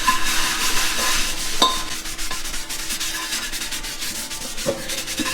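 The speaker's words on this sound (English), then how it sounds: "So basically what you're gonna do is you're gonna rub it on the top." Jute scrubber rubbed over a burnt surface, producing close, coarse scratchy scraping strokes with a few sharp knocks, continuous and fairly loud, no voices.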